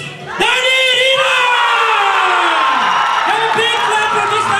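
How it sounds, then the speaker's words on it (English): A crowd at the Miss Capital 2021 pageant erupts in loud cheering, whooping and screaming as the winner is crowned, voices sustained and overlapping at close range, with clapping buried beneath the shouts. "Have a big clap for Miss Dani Rina."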